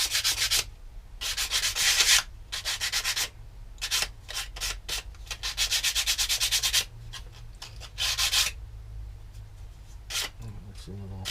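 Short, scratchy strokes of a sanding block smoothing balsa wood edges on a Guillow P-47-D model airplane part, repeated in rhythmic bursts, close and clear, with someone talking in between.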